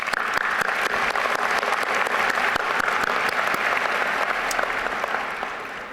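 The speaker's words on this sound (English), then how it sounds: "All of you deserve a heartfelt round of applause." Sustained applause from a large commencement audience at a university graduation ceremony, dense and steady throughout, tapering slightly at the end.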